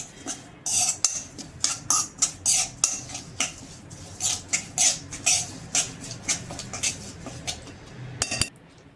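Chillies and carrots for a Gujarati raita pickle are stirred with oil and spices, a spoon clinking and scraping against a metal dish in a quick, steady rhythm of close, crisp taps.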